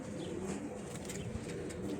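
A racing pigeon coos softly in low, repeated throaty murmurs, faint and close against a quiet loft background.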